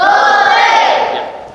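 A loud, unified shout from a classroom of students cheering together during a science lesson, a single sustained burst of voices that fades out over about a second and a half.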